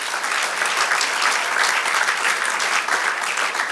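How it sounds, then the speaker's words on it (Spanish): Congregation applause during a church sermon, a dense, steady roar of many people clapping close and loud throughout, with no voice over it. "Dale un aplauso al Señor"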